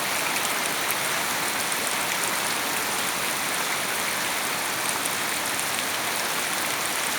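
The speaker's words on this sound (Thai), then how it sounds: "ฝนไหลลงขอบนะขอบไอ้หลังคา" Heavy rain pours steadily in a dense, constant hiss, with water running off a roof edge and splashing nearby, in Pattani, Thailand.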